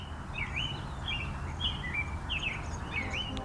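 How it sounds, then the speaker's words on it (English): A birdsong sound effect, raised in level, plays as bright, warbling chirps repeating every half second or so over a low, steady hum. "Now after the dialogue, the birds will raise a little bit."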